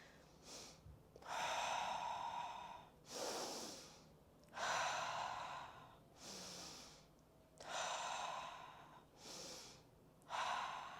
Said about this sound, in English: expanding our belly, and then exhaling out of our mouth